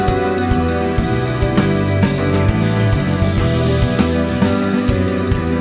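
Dense, full-band progressive rock music plays continuously, with sustained layered Mellotron chords under a busy rhythm section; no voices.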